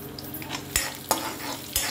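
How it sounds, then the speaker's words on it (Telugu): Urad dal, cumin seeds and red chilli sizzle softly in hot oil for tempering, with a few sharp metal clinks of a spoon stirring against the pan. "పోపు బాగా వేయించుకోవాలి, సిమ్లో పెట్టి వేయించాలండి."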